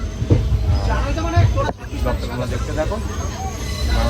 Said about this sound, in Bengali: ট্রেনও নিজের মতো চলছে